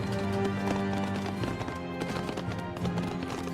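Hooves clip-clop from horse cavalry units in the real-time strategy game 0 A.D., a busy steady patter mixed with other battle sounds under continuous game audio.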